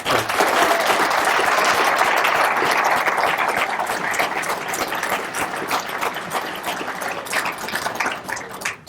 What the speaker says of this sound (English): Please, one more time, round of applause and recognition.